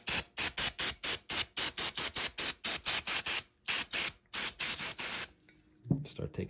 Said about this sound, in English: Just going to try to spray a little bit of carb cleaner on here